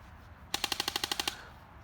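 Gunfire from a staged self-defense skit: a rapid burst of about ten sharp, evenly spaced shots, loud and close, fired over roughly three-quarters of a second amid otherwise quiet background.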